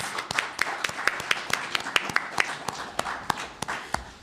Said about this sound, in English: Let's have another clap for them, okay?